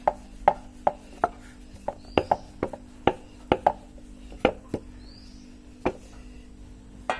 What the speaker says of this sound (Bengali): এভাবে রুটিটাকে বেলে নেব।